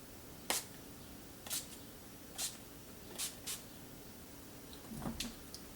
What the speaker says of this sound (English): I'm going to set my face with the NYX Dewy Finish Long Lasting Setting Spray